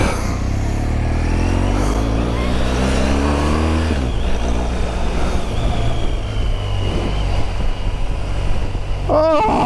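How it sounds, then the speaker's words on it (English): A Porsche sports car drives steadily with a loud, continuous engine note and exhaust roar, rising in pitch through the gears; near and prominent, with a brief sharp sound at the end. "Go get your Porsche, we go for a ride."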